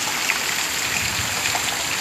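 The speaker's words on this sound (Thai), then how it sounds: "นี่น้ำไหลไหลไปเลย ไหลไปเลยเนี่ย" Heavy rain pours in a Thai mountain village and rainwater streams across the ground, a loud, dense, continuous hiss and gush close by with no voices.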